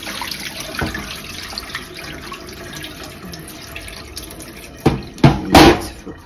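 Tap water runs over tie-dyed cotton yarn and Aida fabric as dye runoff is rinsed out, a steady close splashing that swells into louder gushes near the end.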